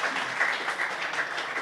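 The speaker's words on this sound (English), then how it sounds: "A big round of applause for CPCL." Faint, distant applause from a crowd at a golf tournament ceremony at the Chennai Open, TNGF Cosmo Golf Club, a soft continuous patter of clapping.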